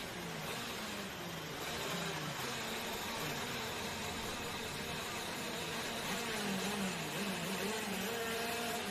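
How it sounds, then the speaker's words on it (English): A KZ racing kart's small engine drones continuously, its pitch climbing and wavering as it revs, over a steady broadband roar. "You can hear the revs rising."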